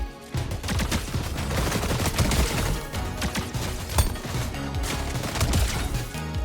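Rapid bursts of mythic SMG gunfire in the Fortnite video game, sustained fast automatic fire with dense overlapping shots, loud and close throughout.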